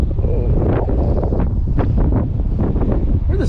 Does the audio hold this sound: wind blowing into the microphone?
yes